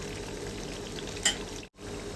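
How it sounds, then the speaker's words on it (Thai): Steady sizzling and bubbling of coconut cream frying in a wok, with a brief scrape of a stirring spatula partway through, no voices. "ช่วงนี้ใช้ตะหลิวคนเป็นระยะระยะนะคะเพื่อป้องกันไม่ให้ที่มันติดกระทะ"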